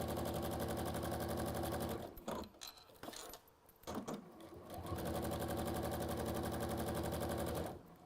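A sewing machine running basting stitches in steady, loud bursts, stopping briefly near the middle with some handling noise before the rapid stitching resumes close up.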